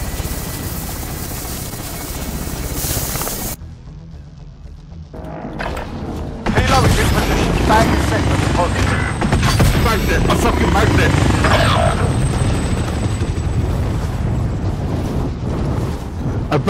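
Helicopter in the video game Call of Duty Warzone, a loud steady rotor drone filling most of the clip amid gunfire and impacts, with players talking over it.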